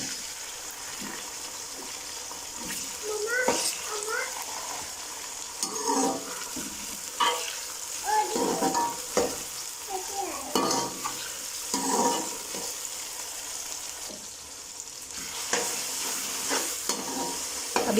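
Green chilies, ginger garlic paste and tomatoes are stirred into frying onions for an aloo palak sabzi. A steady sizzle runs under repeated scraping and stirring strokes, close by, with no voices.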